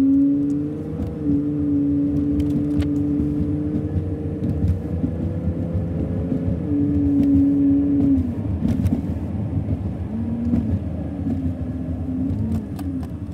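A car drives along quiet streets, its engine holding a steady mid-level hum with a couple of gentle pitch shifts as it changes speed, fairly near and without talk.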